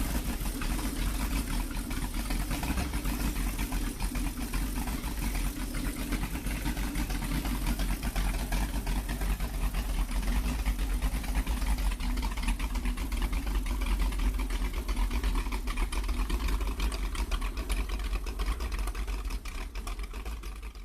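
A Detroit Diesel 8V92TA, a 12.1-liter two-stroke V8 diesel of the kind fitted to vintage fire trucks, idles with a steady, deep rumble that runs unbroken and loud throughout.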